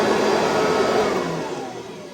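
A 1987 Kirby Heritage 2 upright vacuum cleaner runs with its bag inflated, making a loud, steady motor whine and rush that eases slightly toward the end.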